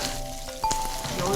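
Ciba chili paste sizzles and crackles in hot oil in a wok, a close, steady frying hiss with a few sharp pops and a utensil clink at the end.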